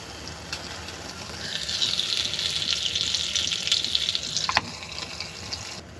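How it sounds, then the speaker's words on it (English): Bacon frying in a pan inside a Volkswagen Vanagon camper van, a steady close sizzling hiss that swells after the first moments, with a brief clack near the end. "Bacon's cooking, sun's rising."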